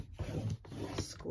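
A scoring tool pressed along cardstock paper for a lidded card box, two or three short, close rubbing scrapes separated by brief pauses, fairly quiet.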